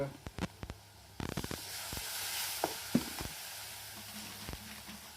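Shingata river fish frying with chilli and spice masala in a pan on a wood-fired clay stove, a soft steady sizzle broken by sharp clanks and scrapes of stirring, close and moderately quiet.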